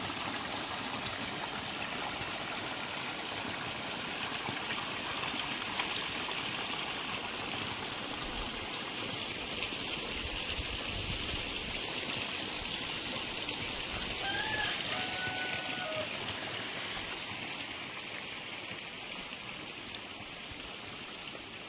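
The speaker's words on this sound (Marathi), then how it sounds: "बघा पाटाचं पाणी, पाट काढलेलं आहे" Water runs steadily along an open irrigation channel fed from a dam, past areca palms and coconut trees in the evening, making a continuous rushing wash that holds level throughout with no voices over it.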